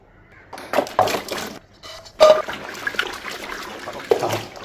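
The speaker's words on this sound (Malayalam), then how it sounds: "അപ്പോൾ ഇത് നമുക്ക് ഇനി ഒന്ന് കഴുകി റെഡിയാക്കി എടുക്കാം" Tapioca being washed in water, with intermittent splashes and sloshing as the pieces are rubbed and stirred, close by with quiet gaps between bursts.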